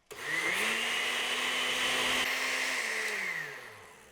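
A kitchen blender runs steadily, mixing coconut impossible-pie batter, a loud continuous whir with a whining motor tone that holds for several seconds before winding down.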